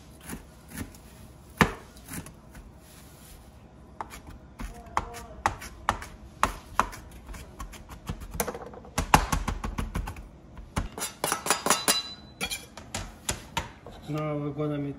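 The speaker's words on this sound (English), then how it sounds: "Now we're gonna cut some dill." Fresh dill being chopped with a knife on a board while making Russian kotleti, scattered crisp taps building into a quick, dense run of close chopping strokes.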